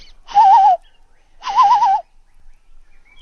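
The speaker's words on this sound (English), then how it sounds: "That bird back there." Two loud, wavering hoots from a bird outdoors, each under half a second, separated by a pause, with quiet background between.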